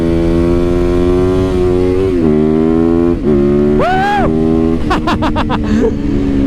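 A stock, unmodified motorcycle engine revving and accelerating up close and loud, with a steady drone broken by rising pitch sweeps, a quick blip and a rapid run of gear-change pulses near the end.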